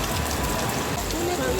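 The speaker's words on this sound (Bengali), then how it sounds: "আর এত জোরে বৃষ্টি এসে গেছে" Heavy rain pours at a beach, a dense, steady wash of drops hitting surfaces close by across the whole short stretch.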